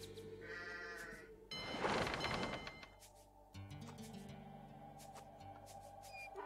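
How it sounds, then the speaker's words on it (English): Sheep in the Age of Empires II video game bleat in quick, clear calls among soft game sound effects, with a brief burst of noise in the middle. "You kill the sheep."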